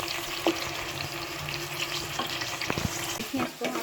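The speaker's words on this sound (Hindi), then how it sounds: "इसको हमने भूनना है अच्छे से" Cinnamon, cloves and black pepper frying with mutton pieces in hot oil for a shahi mutton qorma, a steady close sizzle with scraping stirs and a few sharp utensil clinks throughout.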